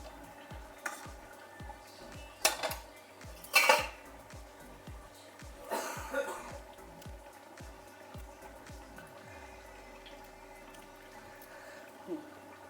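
Metal clatter from a pot lid being lifted and handled while katla fish with ghot kochu cooks, a few loud clanks and scrapes over quiet low background noise.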